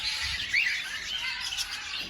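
Cockatiels in an aviary chirp and squawk in quick, bright bursts, several birds calling close by over a quiet background.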